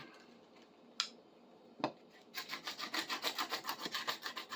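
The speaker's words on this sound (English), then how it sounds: "See what some fresh sandpaper does" Fresh sandpaper rubs back and forth over an old item being restored, a quiet, rhythmic rasping of about a dozen quick strokes following two isolated knocks.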